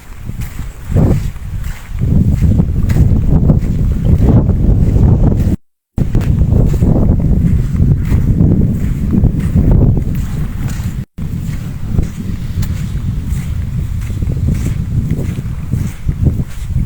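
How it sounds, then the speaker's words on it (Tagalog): Steady, heavy wind buffets the microphone, a loud continuous rumble with a brief dropout, outdoors near the sea on an island. "Tapos medyo mahangin pa."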